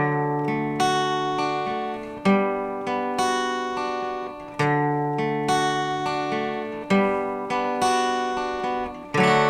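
Acoustic guitar picked in a steady arpeggio pattern over the chords of a song, each chord ringing out with clear, bright individual notes and no voice.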